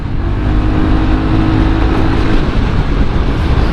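A Honda PCX 160 scooter engine runs loud and close, a steady throaty drone with slight rises in revs throughout and no one talking.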